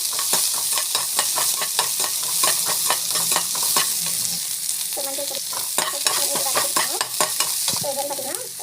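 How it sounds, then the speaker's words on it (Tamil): Mustard seeds, cumin, chana dal, onion and green chili sauté in hot oil with a continuous close sizzle and quick rhythmic spatula scrapes against the pan, with no talking. "இந்த ஸ்டேஜில் கடுகு, சீரகம், ஸோ கடலைப்பருப்பு, வெங்காயம், பச்சை மிளகாய். ஸோ நல்லா வந்து வதக்கிக்கோங்க."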